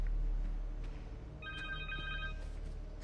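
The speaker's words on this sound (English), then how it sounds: "Phone." A telephone rings in the Spider-Man 2 video game, a short burst of bright electronic trilling heard fairly faintly over a steady low background rumble.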